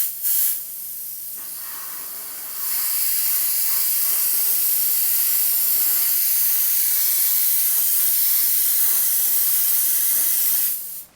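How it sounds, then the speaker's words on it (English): An airbrush-style sprayer fed by a compressor set at about 20 psi sprays primer for model making. It gives a short burst of hiss, then a longer steady bright hiss close by, and cuts off abruptly at the end. "I'm not going to spray very much of this stuff"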